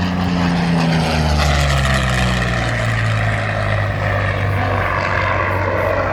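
A P-40 Kittyhawk fighter with an Allison V12 engine flies a display at an airshow, its loud, steady propeller drone filling the whole stretch without pause.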